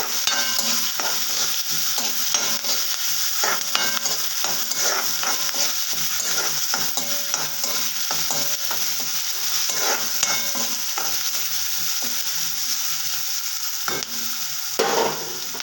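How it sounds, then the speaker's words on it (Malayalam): Chopped ginger and garlic sauté in a pan with a continuous bright sizzle, punctuated by frequent scraping stirs in an irregular rhythm, close and steady throughout. "ഇഞ്ചി, വെളുത്തുള്ളി അരിഞ്ഞതും ഇട്ട് കൊടുക്കാം. അതും ഇളക്കി ഒന്ന് മാറ്റി കൊടുക്കാം."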